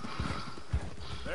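In a PS4 video game, a horse's hooves clip-clop in a couple of distinct thuds, with a faint whinny-like tone near the end, all heard briefly beneath a steady background.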